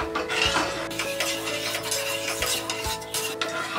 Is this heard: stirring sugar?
yes